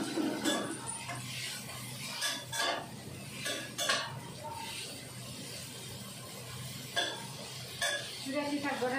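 Long beans stir-fried in a pan, with a metal utensil scraping and clattering against the pan in irregular bursts over a soft sizzle, while a voice talks.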